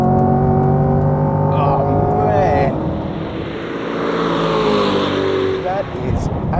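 A Chevrolet Corvette C8 3LT Z51 with a naturally aspirated V8 pulls hard at full throttle onto a back straight. Loud rising engine tones climb through the gears with a brief shift dip, heard from inside the car with a voice talking over it.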